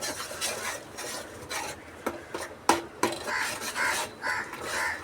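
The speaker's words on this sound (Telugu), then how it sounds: "ఇప్పుడు ఇది బాగా ఒక 10 మినిట్స్ అడుగంటకుండా మనం కలబెట్టుకుంటూ ఉండాలి" Fish gravy being stirred in a pan: a spoon scrapes and rubs against the pan in soft repeated strokes, with a few sharper clinks, close up and on its own.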